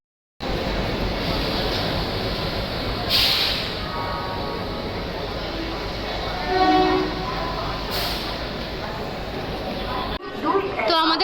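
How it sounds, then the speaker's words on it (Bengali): The Himgiri Express to Jammu rumbles into platform 14 at Howrah station, its horn sounding twice in short bursts, with people talking and platform chatter throughout. "আমাদের জম্মু ট্রেন আসছে"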